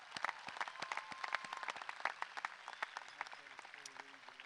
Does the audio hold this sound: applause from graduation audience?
yes